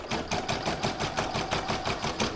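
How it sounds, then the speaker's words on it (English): Embroidery machine stitching the outline of a seasonal alphabet fabric coaster, a close, loud, rapid mechanical chatter with steady rhythmic needle strokes, about five per second, running continuously without speech. "I'm now going to pop it into my machine, and I'm going to stitch round number 1"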